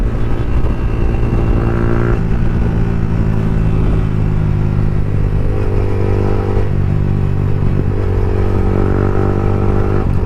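A motorcycle engine drones loud and close throughout, steady with slight pitch shifts as the rider races and overtakes another bike, with wind and road noise beneath.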